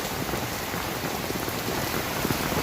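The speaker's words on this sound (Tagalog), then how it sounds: "Natulo na ang ulan." Rain pours steadily on a fish vendor's route home, a dense, even hiss of drops hitting surfaces, close and continuous with no voices.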